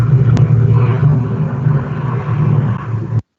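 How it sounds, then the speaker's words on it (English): An airplane flies over during an online council meeting, heard as a steady low rumbling drone that holds at moderate loudness for about three seconds before cutting off abruptly. "there's a plane flying over"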